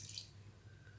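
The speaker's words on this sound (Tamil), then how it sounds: "அடுத்ததாக கொஞ்சமாக வந்து தண்ணி சேர்த்துக்கலாம்." A small splash of water trickles and drips into a mixer grinder jar in a home kitchen, a brief, soft pour heard close and alone.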